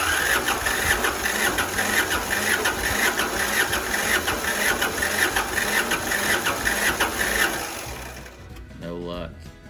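A rare Japanese Iseki 1610 diesel mini tractor cranks for several seconds, with its starter whirring in a fast rhythmic churn that fails to catch and then cuts out, leaving a brief quiet tail.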